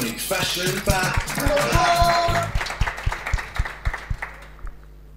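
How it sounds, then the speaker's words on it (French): Studio audience at a French fashion show clapping for a guest, a burst of applause that quickly thins into scattered separate claps and fades out, with music tones and a voice mixed in. "On applaudit Nadra."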